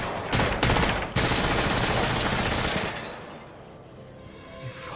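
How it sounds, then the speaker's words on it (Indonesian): A rapid burst of loud gunshots rings out in a prison gangster film scene, followed by a dense crackle that fades into quieter background noise. "tiba-tiba Mudir muncul dan sempat menembak kaki Jet"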